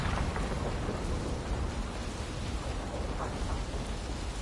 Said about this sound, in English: Rain effects are always awesome.